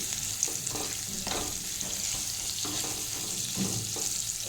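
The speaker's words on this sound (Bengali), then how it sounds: "ভাজা হচ্ছে, একটু ভালো করে ভাজবো।" Boiled potatoes frying in a pan with oil, giving a steady close sizzle broken by the repeated scrape and clatter of stirring, with no talking.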